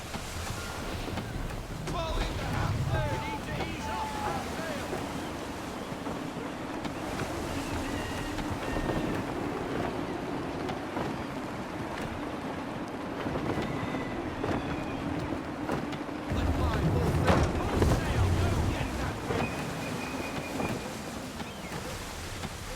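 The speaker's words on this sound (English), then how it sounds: "Gusty winds can be difficult to manage." Sailing ship at full sail in gusty wind in the video game Assassin's Creed III, a steady broadband rush of wind and sea wash with surf swells and occasional louder gusts, continuous throughout.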